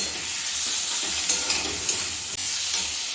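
Potol (pointed gourd) and potato curry sizzling steadily in a pan with a few soft stirring scrapes, close and continuous, no talking.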